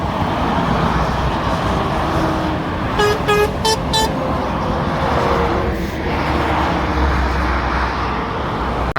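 Near a motorway junction, a Volvo truck gives several quick, close horn toots in a short cluster, sounding over heavy, continuous road traffic roar.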